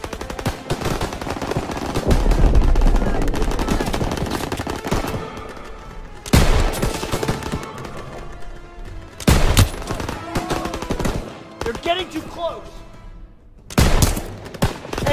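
Gunfire from the Call of Duty WWII game in a battle along the Seine with snipers in a building: sustained machine-gun bursts and rattling volleys, punctuated by loud, close blasts.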